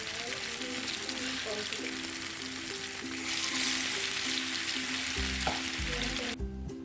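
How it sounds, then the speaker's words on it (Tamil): Fish pieces for masala fish fry frying in hot oil over a medium flame, a loud, steady crackling sizzle close up that swells midway, with a faint low hum beneath. "எண்ணெயை நல்லா சூடு பண்ணிவிட்டு மீன் எல்லாத்தையுமே சேர்த்துடலாம்"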